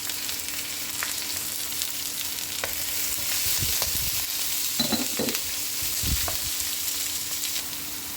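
Kerala-style mussel masala sautéing with onions, green chili, curry leaves and salt in a pan, a steady close sizzle broken by occasional scraping stirs.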